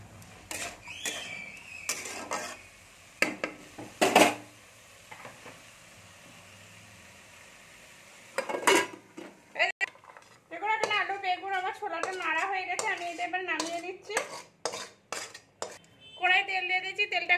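Metal utensil clattering and scraping in a cooking pot of potatoes and chickpeas, a few sharp knocks early on, then a voice talking over the kitchen sounds through the second half.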